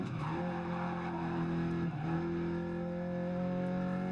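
A rally car in a driving video game slides through a handbrake turn, its steady engine drone holding loud and close with a brief dip midway and a faint skid beneath.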